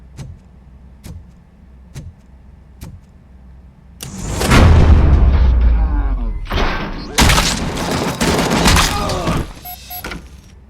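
Gunfire in the video game Robocop: Rogue City: faint evenly spaced thuds at first, then a loud burst of booming shots and blasts that continues in heavy waves.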